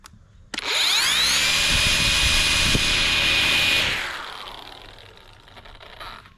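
A brushless cordless battery string trimmer motor spins up quickly and runs at a steady high-pitched whine for a few seconds, then winds down gradually.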